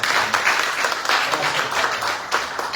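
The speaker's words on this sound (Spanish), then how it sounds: "Dele un fuerte aplauso." A church congregation at an Easter service gives a strong, continuous round of applause with a few sharper claps standing out, loud and close throughout.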